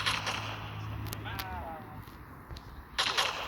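Gunfire in a monkey video game sounds as a few sharp, faint cracks scattered over a quiet background, with a short cluster of louder snaps near the end.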